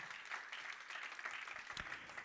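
Church congregation clapping in praise during a Spanish-language sermon, a steady wash of many hands at moderate level, with one sharper clap standing out near the end.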